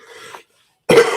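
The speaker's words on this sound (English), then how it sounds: "I've still got a little annoying cough that just pops up out of nowhere" Two sharp, loud coughs from a person sound close up, the first short and the second harsher and longer after a brief silence.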